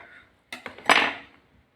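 A knife cuts samosa dough in half on a board with a few quick, close tapping clicks followed by a brief scraping slice.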